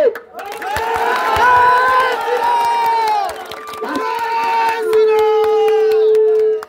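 An audience at a public speech cheers loudly with some clapping, a sustained wave of raised crowd voices that dips briefly before swelling again.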